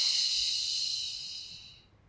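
A strong, breathy exhale during a beginner Pilates mat exercise, a steady close hiss that fades out gradually over about two seconds, with no talking.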